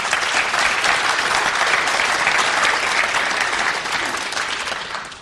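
A pool hall crowd at a 9-ball doubles World Cup match claps in sustained, dense applause, loud and steady before gradually tapering near the end.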